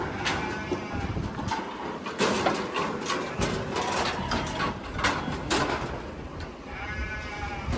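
Several ewes bleat over a dense, noisy barn background of clatter and movement, their calls overlapping and fairly loud throughout.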